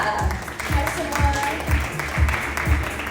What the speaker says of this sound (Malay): tepuk tangan yang gemuruh untuk Fifi dan juga Melia